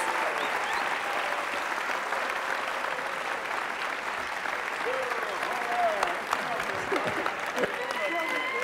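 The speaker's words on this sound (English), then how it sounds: "Round of applause, please, for Wyomia Tyus and Dr." Warm, sustained applause from an event audience honouring Wyomia Tyus and Dr. John Carlos, dense clapping filling the room throughout, with scattered voices and a few shouts rising near the end.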